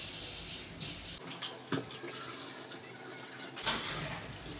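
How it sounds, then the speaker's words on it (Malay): Water is poured gradually onto rice in a pot for spiced steamed chicken rice, with a few gentle splashing pours and trickles over a quiet kitchen background. "Masukkan air sikit demi sedikit."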